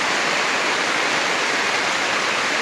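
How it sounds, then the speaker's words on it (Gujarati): Heavy rain pours down with strong wind in Porbandar, making a dense, unbroken roar of noise that is loud and steady throughout, with no voices. "અત્યારે ફૂલે ફૂલ વરસાદ અને પવન ફૂલ થઈ ગયો."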